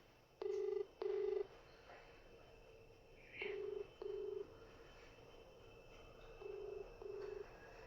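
A telephone rings in repeated paired bursts, each ring a steady electronic tone, left unanswered, the first pair loud and the later pairs quieter against a faint background hum.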